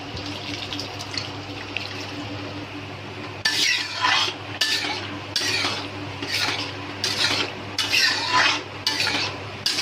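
Cooked lentils for dal makhani go into a pan with wet slurping plops and repeated scraping, stirring clinks of a utensil against the metal, heard close and fairly loud over a low hum.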